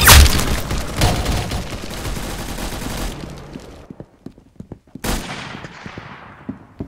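Gunfire from the Roblox shooter Arsenal: rapid automatic bursts in a loud dense stream, then scattered single shots and a sharp blast near the end.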